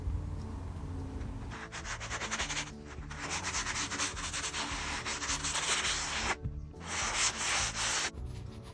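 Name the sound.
sanding wood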